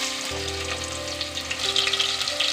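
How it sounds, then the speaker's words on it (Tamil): Chopped onions sizzling in a hot pan with curry leaves and green chillies for a mutton keema gravy, a steady close frying hiss with occasional stirring, heard alone. "வெங்காயம் வந்து நல்லா கோல்டன் ப்ரௌன் ஆகிற அளவுக்கு நல்லா வதக்கிக்கலாம்"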